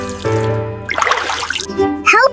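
Tap water running and splashing into a basin, bubbly and close, between bursts of a voice and a sung tone.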